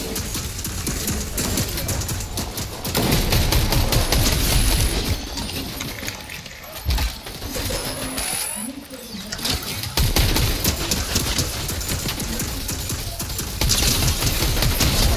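A sentry gun fires continuously in the Fortnite video game, a loud dense rattling barrage of rapid automatic shots that runs throughout amid other gameplay noise, with someone talking over it.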